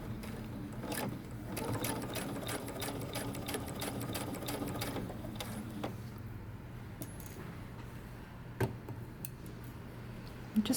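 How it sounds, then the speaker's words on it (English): Sewing machine stitching around a dress collar band close to the edge, a steady, fairly quiet mechanical whir with rapid ticking that runs continuously and slows briefly near the end. "we're going to go to the sewing machine and we're going to stitch"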